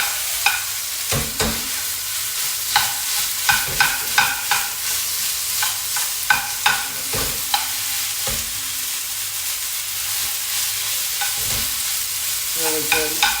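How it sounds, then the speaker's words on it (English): Vietnamese rice noodles stir frying in a pan, a constant loud sizzle broken by regular clacking utensil strokes as they are tossed and stirred, close and uninterrupted by speech. "So you can see I'm stirring it up like that."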